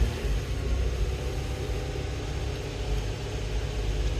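A car engine held at about 2,000 RPM during MAF and MAP sensor testing gives a steady, close, low rumbling drone with no clear rise or fall.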